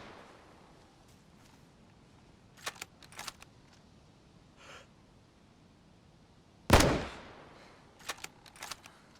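Rifle firing 5.56 rounds in the video game DayZ, heard as a few faint distant cracks early on, then one loud close shot with a ringing tail, followed by more scattered faint reports.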